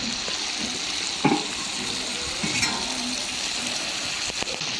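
Ginger and five-spice stir-fried in a hot wok for Guizhou chili chicken: a steady, close sizzle with a few sharp clacks and scrapes of the spatula against the metal.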